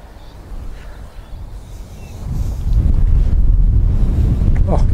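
Very strong wind blasts across an outdoor golf range, a heavy low-end roar on the microphone that starts moderate and surges much louder partway through, continuing without speech.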